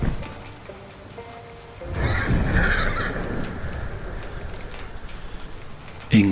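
A horse whinnies briefly at the start as an audiobook sound effect, followed by a steady wash of rain falling on the ground.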